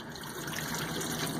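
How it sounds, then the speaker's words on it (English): Water runs from the sink faucet of a 1999 Comfort Camp slide-in camper, a steady hiss of flow that holds even from start to finish, with no one speaking. "got running water."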